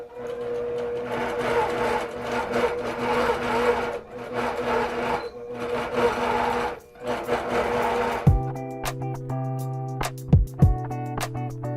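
A computerized quilting sewing machine stitches in a continuous loud mechanical whir with brief pauses, then stops and gives way to scattered clicks, beeps and small handling knocks.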